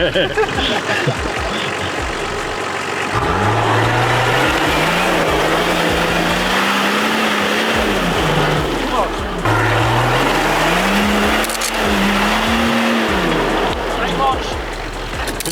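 A Toyota Land Cruiser LJ70 with a 2.8 engine drives through snow, its engine droning steadily and rising and falling in pitch as it revs up through the gears, loud and continuous throughout.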